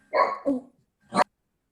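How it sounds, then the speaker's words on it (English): A dog barks twice in quick succession, then once more after a pause, fairly close and clear over an otherwise quiet online board meeting. "I think somebody's dog wants to discuss it further."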